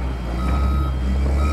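A snow-removal truck in Finland gives off a steady electronic reversing beep over a constant low engine rumble, loud and close.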